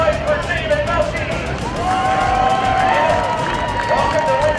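Crowd noise at a stock car short track's victory lane at Winston Speedway, steady broad hubbub with scattered cheers and whoops lasting throughout, with a voice talking over it.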